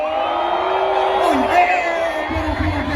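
Festival concert crowd at Baía das Gatas 2024, men answering the performer with shouts, whoops and cheering, a loud continuous roar of many voices swelling near the middle and staying dense to the end.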